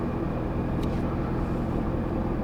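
Cabin of an automatic C8 Corvette Z06 driving in sport mode, a steady low engine and road drone, moderately loud and even, with no talk.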